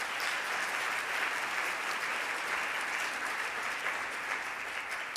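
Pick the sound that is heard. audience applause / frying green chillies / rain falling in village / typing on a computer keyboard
audience applause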